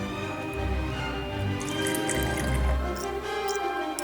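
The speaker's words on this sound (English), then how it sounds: "I'm gonna have to dish it up with a ladle because this is a very small spout" Butterbeer is ladled into a pint glass, a soft continuous pouring and trickling of liquid with small drips, close and fairly quiet, with no talking.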